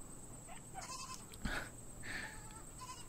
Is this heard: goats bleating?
yes